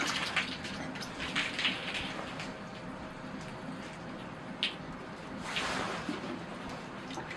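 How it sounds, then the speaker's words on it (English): A watering can pours water over a bonsai tree to rinse it, producing a soft splashing and gurgling stream in uneven bursts, fairly close and with no talk. "I'll use the watering can and rinse the tree off"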